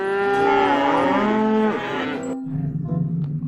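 A single long, loud cow moo with strong harmonic tone, drawn out for about two seconds before trailing into a lower, rougher grunt.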